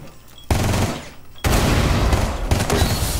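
Rapid bursts of automatic gunfire in Rainbow Six Siege, one short volley and then a longer sustained string of shots, loud and close with a sharp onset to each burst.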